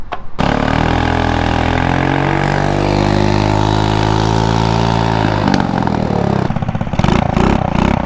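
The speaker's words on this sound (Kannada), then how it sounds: "ಎಕ್ಸಾಸ್ಟ್ ನೋಟ್ ಕೇಳಿ" A small custom mini bike built from scrap parts, fitted with an Activa scooter engine, starts and idles with a loud, steady close-up exhaust note, then the engine cuts and blips unevenly near the end.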